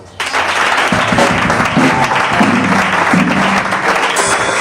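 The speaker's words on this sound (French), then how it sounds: "Et tu acclames." A church congregation breaks into loud, sustained clapping and cheering that swells almost at once and keeps going steadily throughout, with a faint musical tone under the applause.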